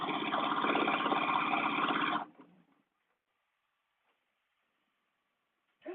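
Domestic sewing machine stitching layers of blouse fabric together with a steady, close whirring hum for about two seconds, then stopping abruptly into near silence before a brief restart at the very end.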